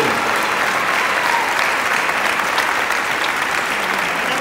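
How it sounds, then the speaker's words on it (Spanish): A crowd at the patronal town festival of Torrejón de Ardoz claps in sustained, dense applause, an even wash of many hands that holds steady throughout, fairly loud and with no voices over it. "Un fortísimo aplauso para todos ellos."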